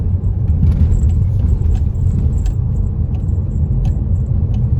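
Steady road traffic on a busy road in Silang, Cavite, near roadwork: a continuous, fairly loud low rumble of passing vehicles with faint higher clatter on top and no talking.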